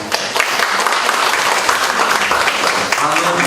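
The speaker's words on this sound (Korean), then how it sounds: "다시 한번 큰 박수 부탁드립니다." Dense, loud applause from an audience at a community village-building training event in Yuseong, Daejeon, steady clapping throughout with a brief swell near the start.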